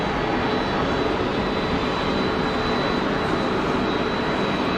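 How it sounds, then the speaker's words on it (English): Loud, continuous jet roar as an airliner lands at Geneva Airport with its thrust reversers deployed, a dense, steady rushing blast with a faint high whine running through it. "chunk of reverser going on there as well."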